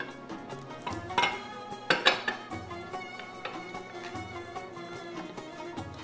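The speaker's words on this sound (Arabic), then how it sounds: "غادي نبداو نضيفو في الماء الدافئ وحنا كنجمعوا هذا الخليط هذا" A spoon stirs and clinks against a bowl as a scrub paste of lemon juice and warm water is mixed for a traditional Moroccan bath, with small scraping strokes and a few sharper clinks, close and moderately quiet.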